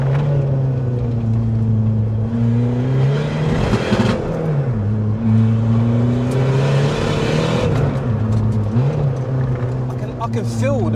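Tuned 353bhp Skoda Fabia vRS accelerating hard, a loud steady engine drone rising and dipping in pitch through gear changes, heard from inside the car.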